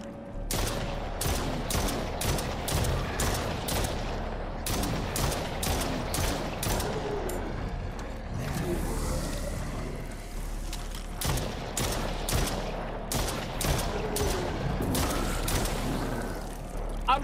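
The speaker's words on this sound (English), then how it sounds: "Shooting him and he's still not falling." Rapid, dense bursts of video game gunfire crackle almost nonstop inside a police station in the horror game Stray Souls, with brief gaps between volleys and occasional faint talk underneath.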